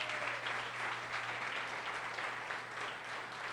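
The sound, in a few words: church congregation applauding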